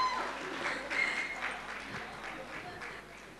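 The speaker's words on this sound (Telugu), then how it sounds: "సిద్కి ఒకసారి గట్టిగా చప్పట్లు కొట్టండి" Audience at a Telugu film pre-release event applauds the cinematographer, a broad wash of clapping with crowd noise that swells near the start and fades gradually, with speech mixed in.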